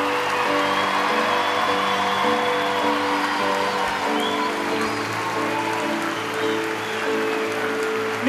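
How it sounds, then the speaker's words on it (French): Audience at a school concert applauding young school soloists, steady dense clapping from a crowd at full volume throughout, with no voices over it. "je vous demande d'applaudir les petits solistes des écoles"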